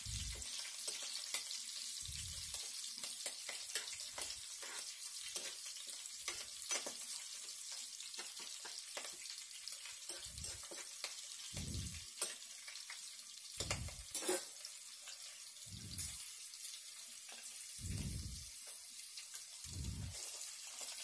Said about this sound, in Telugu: మనం కట్ చేసి పెట్టుకున్న పచ్చిమిరకాయలను వేసుకొని ఒకసారి మొత్తం కలుపుకోవాలి